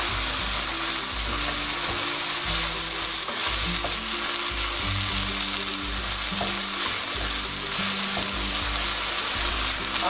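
Seasoned meat with salt and pepper sizzles steadily in a hot pan while being stirred, with repeated scraping strokes over a constant frying hiss.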